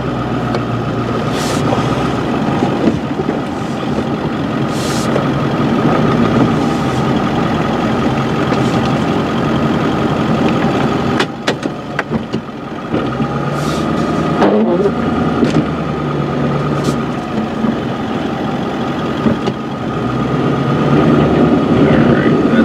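A snowplow truck works a front parking lot in winter, its engine droning steadily and close with clanks and scraping bursts as snow is pushed, plus a few sharp knocks; a voice talks over it at times.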